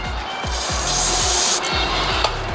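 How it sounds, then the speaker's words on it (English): Cleaner is sprayed onto a carburetor part from a 50cc Jonway scooter during a carb clean. A sustained hiss rises for about a second over a repeating mechanical thump, then ends abruptly. "Let's spray this off."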